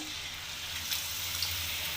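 Battered chilli chops frying in hot oil in a wok, a steady moderate hiss of bubbling oil with a couple of faint pops, continuous and close with no talking.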